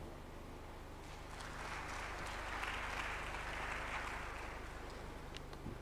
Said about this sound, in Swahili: Hayo makofi hayatoshi.